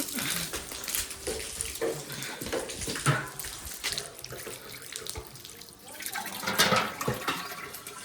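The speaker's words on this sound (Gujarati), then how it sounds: "નળી આપણે ટાંકીમાં નાખી દઈએ." Water runs steadily from a hose into a tank, a continuous splashing rush with gurgling swells throughout.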